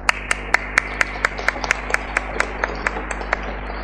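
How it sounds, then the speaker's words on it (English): Sparse, evenly spaced clapping at a symposium session as an audience applauds panelists and a moderator, crisp separate claps over a steady low hum, with no talk. "Can we have a round of applause for our panelists and our moderator for this session?"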